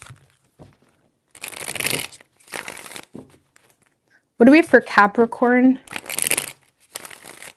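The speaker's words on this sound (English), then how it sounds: "4 shuffles." Tarot cards riffle and slap in several short shuffling bursts, separated by pauses and a spoken line in the middle.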